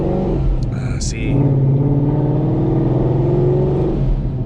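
A car engine with a Procharger supercharger drones steadily and close by, revving with a rising supercharger whine, while someone talks briefly over it.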